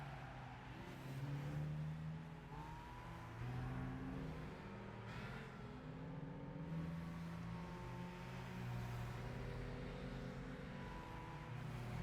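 Lotus Elise and Mazda RX-7 race cars in Gran Turismo 5 drone steadily, with engine tones rising and falling as they jostle for position, a continuous moderate roar with no talking.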